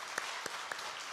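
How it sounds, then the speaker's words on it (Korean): Congregation at a Korean early-morning Friday worship service gives a brief, faint round of steady clapping, soft and distant with a few sharper claps standing out. "하나님께 영광의 박수 한번 드리겠습니다"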